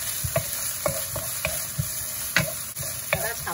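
Green and red chili peppers stir-frying in a little oil in a wok, with a steady sizzle and repeated scrapes and clanks of a spatula tossing them, close and moderately loud.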